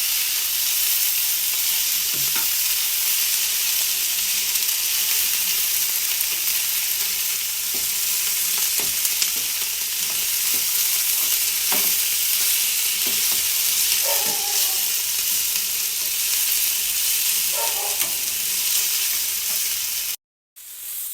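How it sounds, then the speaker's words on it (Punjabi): Chopped onions frying on a high flame in a pan for Punjabi paneer bhurji, a steady loud sizzle with occasional light stirring knocks throughout, no talking, cut off abruptly at the very end. "ਆਪਾਂ ਇਹਨੂੰ ਐਵੇਂ ਹੀ ਫਲੇਮ ਦੇ ਉੱਤੇ ਹਾਈ ਫਲੇਮ ਦੇ ਉੱਤੇ ਪਕਾਵਾਂਗੇ ਜਿਹੜਾ ਆਪਣਾ ਪਿਆਜ਼ ਹੈ"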